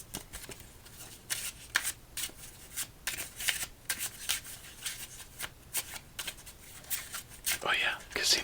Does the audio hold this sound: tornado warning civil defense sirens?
no